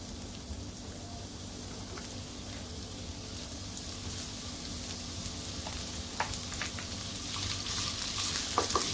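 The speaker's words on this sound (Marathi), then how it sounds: "तर ब्राऊन कलर येतोपर्यंत आपल्याला कांदा चांगला भाजून घ्यायचा आहे" Onion fries in a pan with a small spoonful of oil, a steady crackling sizzle that grows louder toward the end.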